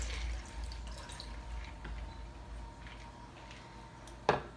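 A tart cherry martini is poured from a shaker into a glass: a faint, steady liquid trickle runs for several seconds, ending with a sharp clink of glass near the end.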